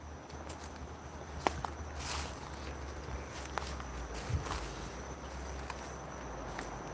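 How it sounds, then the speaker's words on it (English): Crickets and other bugs chirp softly outdoors at night, a faint steady texture broken by a few scattered ticks and rustles, with no talking. "At least I hear bugs."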